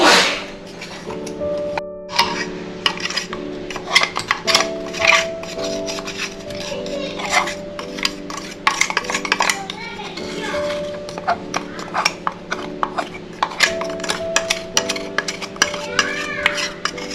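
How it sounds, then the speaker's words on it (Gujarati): Powdered rock sugar is stirred into panjiri in a pan, with a spoon scraping and clinking against the metal in quick irregular strokes; a faint tonal hum sits underneath. "આપણી સાકર પણ અંદર આપણે મિક્સ કરી લઈએ"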